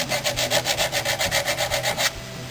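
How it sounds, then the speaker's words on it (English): A metal knife blade is sanded by hand with sandpaper wrapped around it, giving about fourteen quick, even rasping back-and-forth strokes up close that stop near the end. "by the time I sand them off and polish them out by wrapping some sandpaper around like that"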